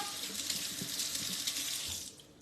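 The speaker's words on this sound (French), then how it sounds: "Je me rince les mains, j'arrive." Water runs steadily from a kitchen tap as hands are rinsed beneath it, a continuous close splashing hiss that fades out near the end, with no talk over it.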